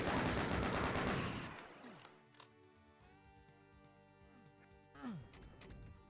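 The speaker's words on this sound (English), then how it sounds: "You still have to avoid all that gunfire." Rapid, dense bursts of gunfire in a Doom deathmatch, loud at first then thinning into scattered shots, with game tones and an intermittent voice in the background.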